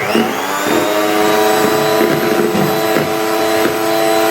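An electric hand mixer beats egg cake batter flavoured with vanilla essence, a loud steady motor whine with faint periodic clunks as the beaters knock the bowl.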